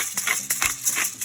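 A pepper grinder turns over a pot of corn chowder, giving quick dry crunching clicks in a short, uneven burst, close and fairly quiet.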